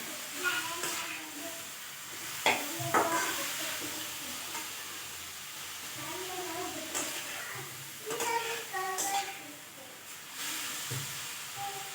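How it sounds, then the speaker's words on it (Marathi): Momo filling with coconut fries in a pan, a low steady sizzle under repeated scraping and stirring strokes, with someone talking quietly over it. "सगळं टाकलेलं आहे मिक्स करून, आणि ते परतून घेतो आहे."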